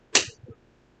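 One sudden, loud human sneeze bursts out close by and is followed by a faint breathy tail, then quiet.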